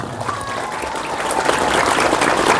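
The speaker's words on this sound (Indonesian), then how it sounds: "Tepuk tangan untuk Babul Ulum." A large crowd at an Islamic school gathering claps for Babul Ulum: dense, continuous applause that swells steadily louder over its whole length, with no talking.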